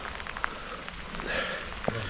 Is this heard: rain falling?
yes